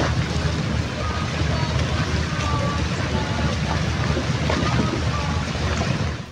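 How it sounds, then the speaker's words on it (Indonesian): Heavy rain pours down on Larantuka town during Good Friday Semana Santa, a dense, steady hiss that stays constant and loud throughout. "hujan terus mengguyur kota Larantuka sejak pagi hari"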